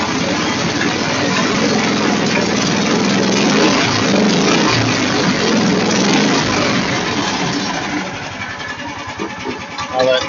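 A Kohler engine fitted to an AMT626 machine is throttled up, running loudly and steadily close by with a rattling front clutch underneath. The roar eases toward the end.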